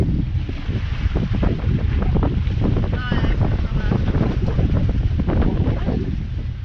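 Wind blows hard across the microphone on a sailboat under sail, a loud continuous rushing roar with buffeting gusts that never lets up.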